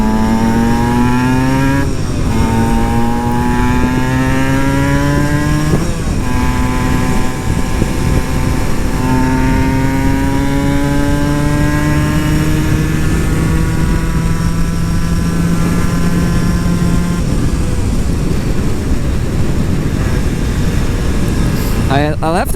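An Aprilia SX-125 two-stroke supermoto motorcycle is ridden hard, its buzzy engine climbing in pitch through several gears with sharp shifts between them, loud and close, with wind noise throughout.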